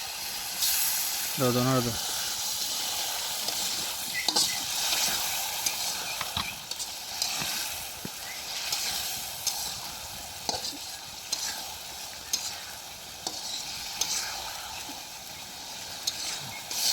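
Fresh fish sizzles in hot oil in a home kitchen pan, a steady close hiss with occasional stirring clatters and scrapes while people talk over it.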